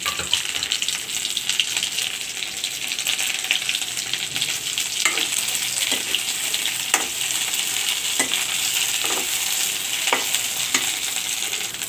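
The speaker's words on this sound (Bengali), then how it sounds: "তারপর আমি এখানে শিদলগুলি দিয়ে দিচ্ছি এখন আমি এগুলো তেলে ভেজে নেব" Shidol frying in mustard oil in a wok, a steady loud sizzle running throughout with occasional stirring scrapes over it and no voices.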